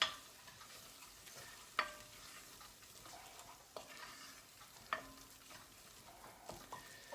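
Onions and mustard being stirred in a pan for lentil dhal, a soft sizzle underneath with several distinct scrapes and taps of the spoon against the pan at irregular intervals, close and quiet, no talking.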